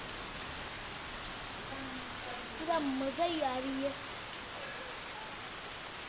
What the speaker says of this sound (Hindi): आप यहाँ देख सकते हैं कि कितनी जोरदार बारिश हो रही है